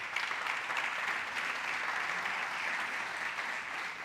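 Steady, dense applause from a church congregation during a sermon, sustained at even loudness throughout with no pauses.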